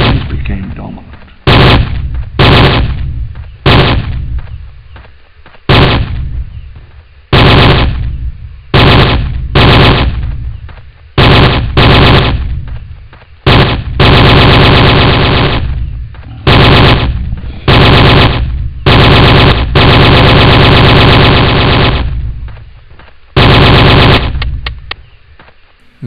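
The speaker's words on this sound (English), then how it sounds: "I'm not too impressed by the sound effect they used for the AK-47 in this game" Sound effect of AK-47 fire in the video game Jurassic Park Trespasser: loud bursts of automatic shots in repeated volleys, some short and some sustained for several seconds, separated by brief silences.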